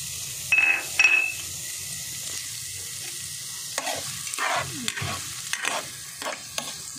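Onion and garlic frying in oil in a cooking pot, a quiet sizzle under intermittent stirring and scraping, with a couple of bright clinks near the start and louder utensil movements later, close by.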